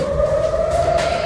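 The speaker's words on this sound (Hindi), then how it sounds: "सुन सकते हैं आप सायरन?" A loud air-raid siren wails on a steady held tone during an Iran-Israel missile attack, slowly rising in pitch, with background rumble and no speech.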